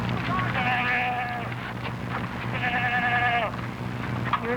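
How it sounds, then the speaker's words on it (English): Sheep bleat in a show ring where contestants walk their animals around, with two drawn-out wavering bleats standing out over a steady hum and the chatter of a crowd. "All contestants walk their sheep around the ring."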